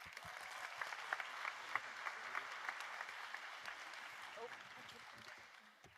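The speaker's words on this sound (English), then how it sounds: "Please welcome Ms. Hannibal with a big round of applause." A commencement ceremony crowd at KIPP Oak Cliff Academy applauding a speaker's welcome: broad, fairly distant clapping with scattered sharper claps, fading toward the end, and a faint voice briefly audible.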